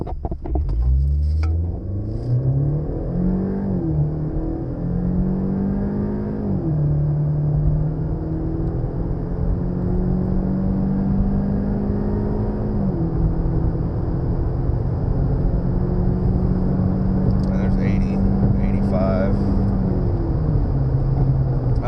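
A Chevrolet Cruze with a 1.4-liter turbo engine and an aftermarket intake accelerates hard on an open road, its engine droning loudly from inside the cabin as the pitch climbs steadily through each gear and drops at the shifts.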